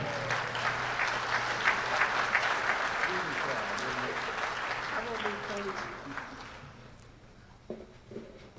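Audience applause at an evening honoring a university figure, fairly steady clapping that fades after several seconds, with voices and a low hum underneath.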